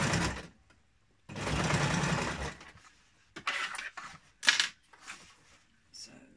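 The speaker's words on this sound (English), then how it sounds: "It's not a very powerful sewing machine." Low-powered domestic sewing machine stitching fabric for a homemade kick scooter bag, with short whirring bursts of stitching that start and stop, broken by pauses, handling noises and a quiet voice.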